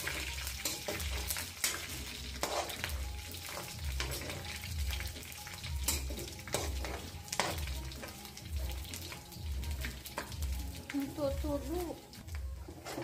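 Oil sizzles steadily in a pan while a utensil stirs and scrapes winged beans, okra and vegetables, with some clattering; a voice talks over it near the end.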